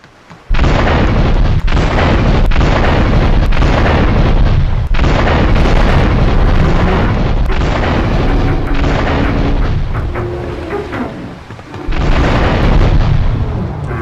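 A long run of loud, heavy booms and bursts in Grand Theft Auto III, one after another in rapid, chaotic succession, with no voices.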